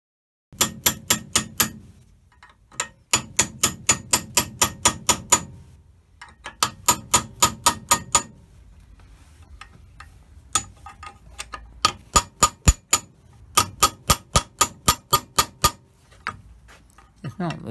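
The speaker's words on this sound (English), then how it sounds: "cut around the either end of the bearing before we Chris gets his hammer and chisel out" A hammer drives a chisel to cut around a bearing, giving bursts of sharp, ringing metallic strikes in quick, even runs of five to ten blows separated by short pauses. A voice is faintly present.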